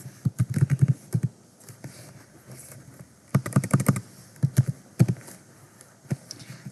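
Bursts of typing on a computer keyboard while entering PHP date and time code, quick clustered keystrokes separated by short pauses, close and fairly loud with no talking.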